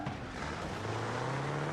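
A car engine keeps running in the BeamNG Drive driving game, a steady drone with a rising low hum, continuous and close with no talking.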